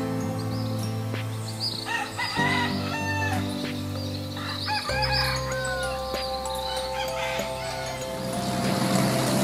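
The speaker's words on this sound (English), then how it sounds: "Nothing like the sound of the Roosters in the morning, especially in Puerto Rico." Roosters crow repeatedly in the morning on a hillside in Ponce, Puerto Rico, several long cock-a-doodle-doo calls overlapping over a steady rural background, with clucking between them and no talk.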